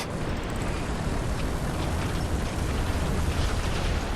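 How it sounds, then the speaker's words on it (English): An artillery barrage in War Thunder, heard from an IS-1/IS-2 tank, comes through as a continuous heavy roar of overlapping blasts and rumble that holds loud for the whole stretch, with no talk. "Artillery barrage, no problem."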